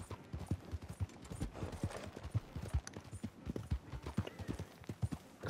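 Steady clip-clop of horse hooves at a walking pace in the video game Red Dead Redemption 2, rhythmic and fairly close, with no talking.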